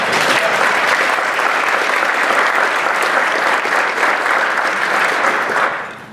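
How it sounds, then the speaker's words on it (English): A dense round of applause from an annual meeting crowd at a mountain resort, honoring the food and beverage team, steady and full before tapering off at the end. "quick round of applause for our food and beverage team"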